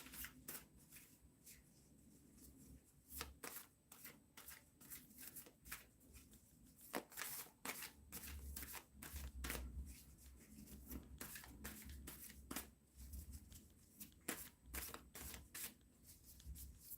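Tarot cards shuffled by hand in repeated brisk riffling bursts, close and fairly quiet, with short soft pauses between bursts and no talk.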